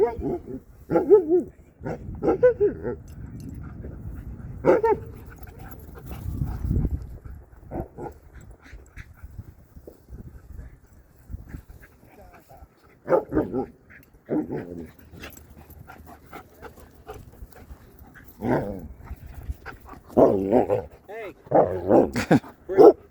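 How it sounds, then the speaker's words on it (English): A Caucasian Ovcharka barks at a dog park in repeated bursts, with some yips and whimpers mixed in. People talk between and over the barking. "Your dog is one of the most vocal dogs I've ever heard."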